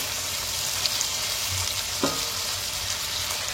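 Chicken pieces fry in hot oil in a pan, giving a steady close sizzle throughout, with a faint stir or clink near the middle and no talking.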